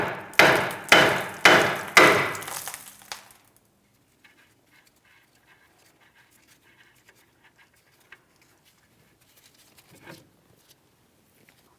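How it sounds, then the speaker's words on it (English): Hammer tapping directly on the steering knuckle of a 2007-2014 Ford Edge during inner tie rod replacement: four sharp metallic strikes in even rhythm, close and loud, then near silence with faint clinks. "We're tapping directly on the knuckle here."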